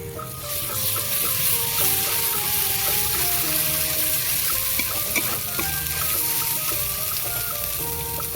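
Chili powder and ginger paste hit hot oil in a pan for a Bengali amudi fish jhal, making a loud, dense, continuous sizzle with crackling bursts up close and no talking.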